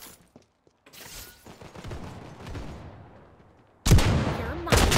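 Bursts of video game gunfire sound in sharp loud volleys, with scattered shots and clatter early on, then a heavy sudden barrage near the end, with no speech.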